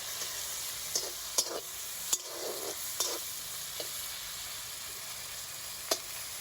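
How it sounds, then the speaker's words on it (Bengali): Prawns fry lightly in oil in a kadai, making a soft, steady sizzle with occasional sharp clicks and spatula taps. The sound is fairly quiet and there is no talk. "মাছগুলোকে খুব বেশি ভাজবো না, হালকা করে কিন্তু ভেজে তুলে নেবো।"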